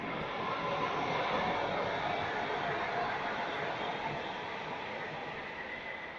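A train passes close by in Turkey, a steady broad rumble and roar that holds loud for several seconds and eases slightly toward the end, with no talk over it.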